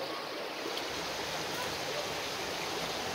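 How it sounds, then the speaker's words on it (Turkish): Rushing river rapids and a small waterfall on the Manavgat River make a steady, dense roar of churning water, close and continuous. "Manavgat Nehri, küçük şelale."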